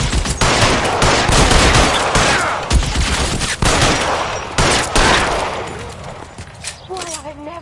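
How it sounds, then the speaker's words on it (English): Heavy gunfire from L.A. Noire: loud, rapid overlapping shots with sharp cracks, fading slightly toward the end, where a rising, wavering tone appears. "Open fire!"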